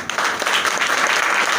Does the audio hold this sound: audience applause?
yes